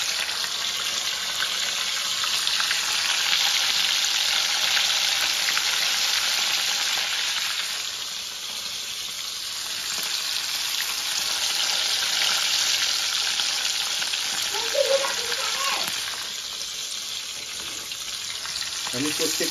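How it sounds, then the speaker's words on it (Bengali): Pieces of rohu fish fry in hot oil with a loud, continuous sizzle that swells and eases as they are added, heard alone and close up. "মাছগুলো এইভাবে ধরে আমি আস্তে আস্তে করে তেলের মধ্যে দিয়ে নেব।"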